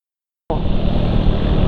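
Motorcycle accelerating after its dented, clogged exhaust was repaired, an engine roar that bursts in abruptly from silence and holds loud and steady.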